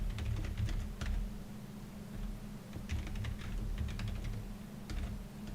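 Close, quick keyboard clatter comes from a computer keyboard as someone types Scala code, in rapid bursts and short pauses with no speech.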